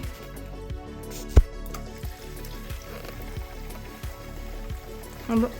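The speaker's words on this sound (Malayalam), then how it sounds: "ഇതെല്ലാം വറുത്ത് കോരിയ എണ്ണയിലോട്ട് തന്നെ നമ്മൾ മീൻ വറക്കാനായിട്ട് ഇടുവാണേ" Salmon pieces frying in hot oil for pickle, a continuous sizzle with bubbling and popping, a sharp knock near the start and a voice briefly audible near the end.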